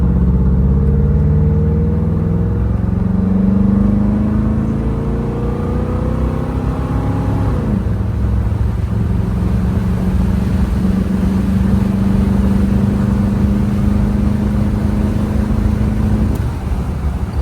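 A 1967 Chevrolet Chevelle Malibu convertible with a 327 V8 accelerates hard. Engine tones climb steadily, drop at a gear shift, then climb again in a loud, continuous run with no talking.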